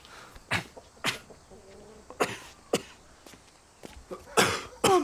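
A person coughs repeatedly in a quiet indoor scene, with several sharp, separate coughs and throat noises spread unevenly, the last few louder and closer together.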